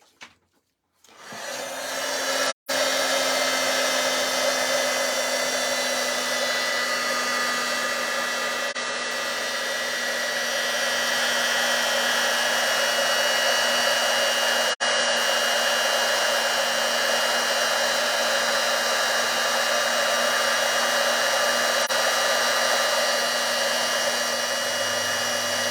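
An embossing heat tool blows steadily for over twenty seconds as it melts embossing powder on a card, a continuous loud whirring hum with a brief dropout at the start.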